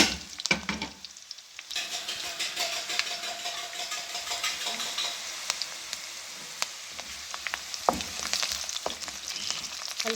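Whole spices, including bay leaves, black peppercorns, green cardamom and cumin seeds, fry in hot oil with a steady, close sizzle and occasional crackles and pops. A short quiet gap comes near the start.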